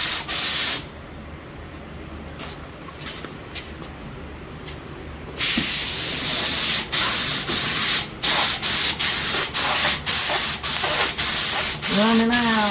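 Body work on a Ford F-350 truck, with a steady loud rasping hiss of sanding, then a string of short repeated strokes after a brief quieter stretch.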